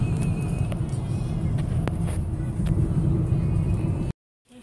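Steady road rumble and engine drone inside a moving car in Kuala Lumpur, loud and continuous with a faint whir, cutting out abruptly near the end.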